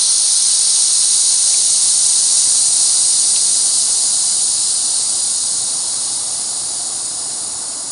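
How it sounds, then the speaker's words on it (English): Air hisses steadily out of a bicycle tire valve as the tire deflates, a loud continuous hiss that slowly weakens over the whole span with no talking. "Take the air out."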